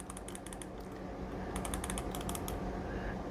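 Button presses on a Powkiddy X35H handheld game console, quick clusters of sharp, close clicks in two bursts with brief pauses between, over a faint steady background.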